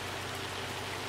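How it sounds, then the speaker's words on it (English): Steady rain in the farming video game Farming Simulator 25 makes a dense, even hiss of drops that fills the moment at a constant level, with no voices. "Starting to rain."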